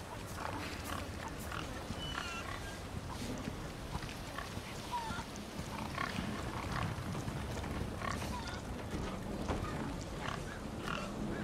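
A white pig oinking in the Resident Evil 4 Remake video game, repeated grunts over a dense, continuous game soundscape with rustling and mechanical noise, lasting the whole stretch.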